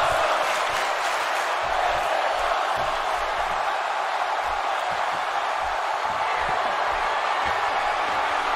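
A wrestling event crowd keeps up a steady wash of cheering and applause throughout, a broad continuous roar with a commentator's voice talking over it.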